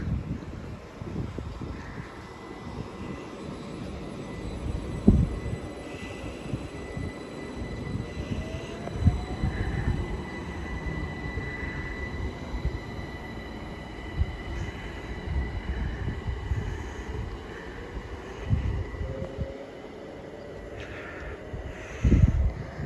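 A Pendolino train passes slowly through Harrow and Wealdstone station, a sustained rumble of rolling wheels with faint squeals and wind buffeting, unaccompanied by voices.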